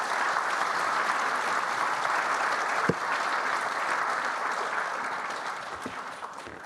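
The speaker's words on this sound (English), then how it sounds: "please join me in a round of applause to the wonderful panelists for the session" A conference audience gives sustained applause to the panelists at the close of a Tokyo Global Dialogue session, a dense even wash of clapping that fades slightly toward the end.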